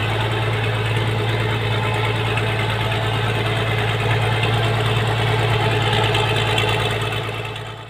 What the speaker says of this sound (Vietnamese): Hôm nay Hồ Miền Nam lại tiếp tục máy cày đi chở lúa cho bà con xem nhá.